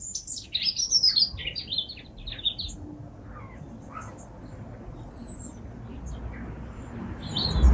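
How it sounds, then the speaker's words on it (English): Baby pigeons in a woodshed give high, thin chirping calls in a cluster early on, then fainter isolated cheeps over a low, steady outdoor rumble. "It's quite rare to see baby pigeons."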